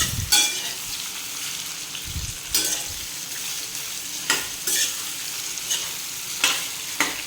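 Raw mango slices frying in hot oil for methi amba, a steady close sizzle with repeated sharp stirring scrapes against the pan, no voices.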